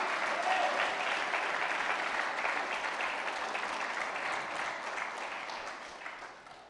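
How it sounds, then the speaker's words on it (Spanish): A church congregation applauding for God during a Spanish-language sermon, a dense, loud wash of many hands that holds steady, then gradually tapers toward the end with no voices. "Démosle un fuerte aplauso a nuestro Dios."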